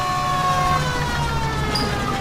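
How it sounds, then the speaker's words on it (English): Police car siren in the video game L.A. Noire, a steady wailing tone held throughout over a low engine rumble, loud and close. "Turn on the siren and pull her over."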